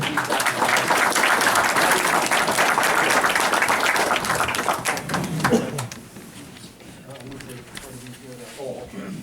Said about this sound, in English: I give Buddy Robinson here a nice hand for all the work that he's done